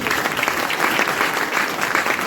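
A live audience at a motivational leadership seminar in Gurugram breaks into sustained applause, loud and dense with steady clapping from many hands throughout.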